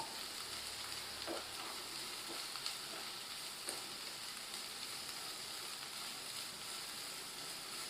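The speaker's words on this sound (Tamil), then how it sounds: "ஒரு பெரட்டு பெரட்டிட்டு வெட்டின கோஸை ஆட் பண்ணிடுங்க" Chopped cabbage stir-fried in oil with chili, a steady close sizzle with occasional soft scrapes and clinks of a spatula turning it in the pan, no voices over it.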